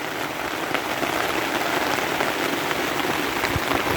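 Steady rain drums on a campsite canopy during a thunderstorm near Clear Creek and Cook Forest state parks, a dense, even hiss with scattered louder drops, continuous and fairly close, with no talking.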